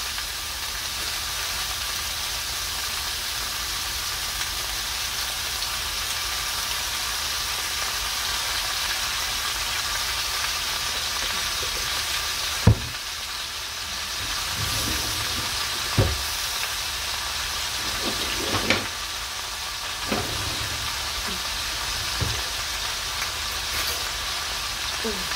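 Peppers, sausage and potatoes sizzle steadily in olive oil in a pan, a continuous close frying hiss with a few sharp clanks and scrapes of a utensil in the second half, no talking.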